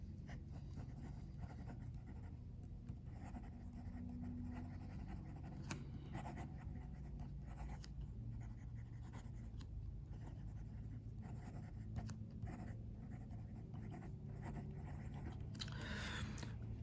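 A Hongdian N10 fountain pen scratches out a writing sample on paper, a faint continuous nib-on-paper rasp with small irregular strokes and pauses, close and quiet against a low room hum, with no talking.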